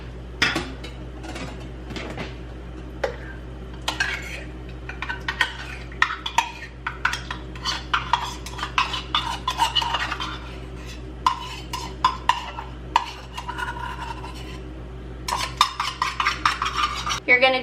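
A whisk stirs a crockpot pumpkin coffee creamer mixture of pumpkin puree, sugar, vanilla and nutmeg, giving a steady run of quick metallic clinks and scrapes against the bowl that bunch into dense bursts near the end, with no talking.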